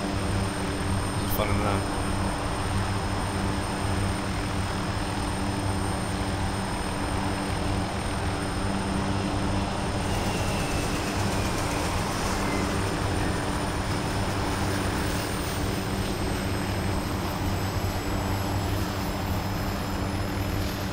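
A helicopter in the military game Arma 2 drones continuously with a loud, steady rotor and engine roar throughout, while players talk over it.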